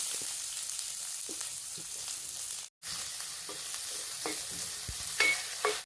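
Cumin, curry leaves and chopped onion fry in oil, a continuous hiss broken by spoon stirring taps and scrapes, with a brief drop to silence midway and a louder stir near the end.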